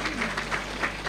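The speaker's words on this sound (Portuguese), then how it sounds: "peço uma salva de palmas de novo para ela." An assembly hall crowd at a political meeting in Beira, Sofala, Mozambique claps in a brief, steady burst of dense applause, heard close and fairly loud.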